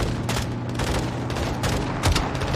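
Combat in Call of Duty: Modern Warfare 2 (2022): rapid bursts of gunfire and a launcher blast crackle densely together, loud and continuous with sharp repeated reports.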